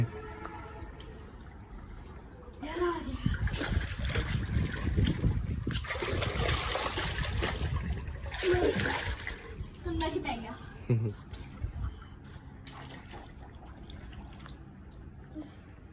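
Water splashes and spills during play in a makeshift home pool, a long stretch of loud, churning sloshing with voices talking over it.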